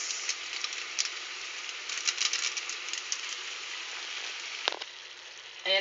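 Bean sprouts sautéing in a hot pan with ginisa mix, a steady close sizzle and crackle with a few light stirring clatters and a brief metallic knock near the end.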